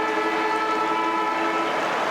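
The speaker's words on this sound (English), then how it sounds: "There's the siren." A loud, sustained horn-like siren wails across an AFL stadium at Swans versus Eagles, ending the quarter, steady and unbroken throughout.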